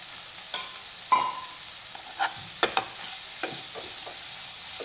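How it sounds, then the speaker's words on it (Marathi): Chopped spinach stirred in a hot pan for garlic spinach dal, with a faint sizzle beneath a few distinct spoon scrapes and clinks spread across the stretch, no voices. "गॅस मोठा करून आता पालक हा छान परतून घेऊया मिक्स करून"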